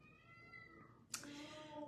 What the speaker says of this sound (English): My husband is now trying to calm the kitten down.